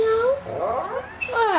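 A dog imitates a cat's meow with two drawn-out, wavering cries, close and fairly loud, with a short gap between them.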